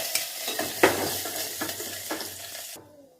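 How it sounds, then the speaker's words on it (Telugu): Tempering seeds and dried red chillies sizzle in hot oil in a pan, a busy crackle punctuated by sharp spatula clinks and scrapes, until the sound cuts off abruptly into near silence. "తాలింపు గింజలు, ఎండుమిరకాయలు వేసేసుకున్నాం"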